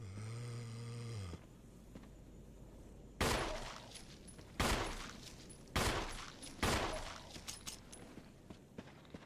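Gunshots in a Resident Evil video game: after a held synthetic tone ends, four loud, widely spaced single shots ring out, each with a decaying echo, over quiet ambience.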